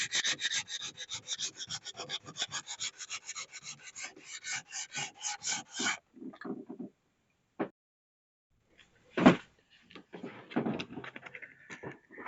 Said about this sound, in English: So I just put drops just to help keep the sandpaper as clean as possible